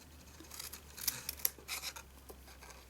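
Paper is trimmed with scissors for a copper embossed gift box, giving a few soft, quiet snips and crisp cuts close up.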